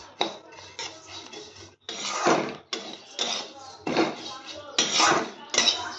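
Vermicelli roasting in ghee in a pan, stirred in repeated scraping strokes, each a rough rasping sweep with short pauses between, close and clear.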